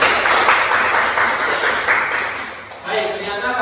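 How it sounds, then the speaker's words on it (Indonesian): A class applauds a student named Putri during a lesson on church hierarchy, a dense wash of many hands clapping fairly loud and steady, dipping briefly before a fresh burst near the end. "Tepuk tangan untuk Putri."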